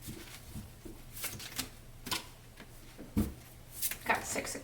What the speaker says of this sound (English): These are some pretty thick cards, so they can be difficult to shuffle at times